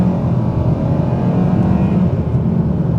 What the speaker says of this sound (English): So let's see the acceleration on it.